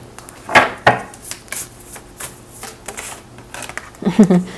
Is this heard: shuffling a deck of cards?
yes